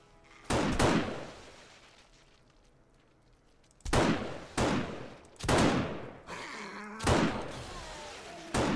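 Loud gunshots ring out in 7 Days to Die with the War of the Walkers mod: about six sharp, close reports in irregular bursts, each followed by a short decaying tail.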